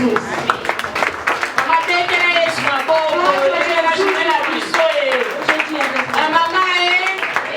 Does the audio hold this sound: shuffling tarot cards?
no